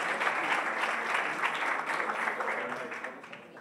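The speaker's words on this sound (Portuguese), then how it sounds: "por favor, uma salva de palmas para eles" An audience applauds the people standing on stage, a dense, steady burst of clapping from a sizable crowd that tapers off near the end.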